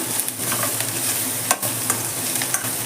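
Onions softening in a pan of hot oil, sizzling steadily up close while a spoon scrapes and stirs through them every so often, no voices.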